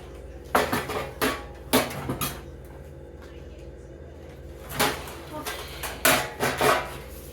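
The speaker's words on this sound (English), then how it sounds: "now we're gonna grab the casserole dish" A casserole dish being picked up and set down in a home kitchen while baked ziti is made. It gives several close clinks and knocks in two clusters with quiet pauses between.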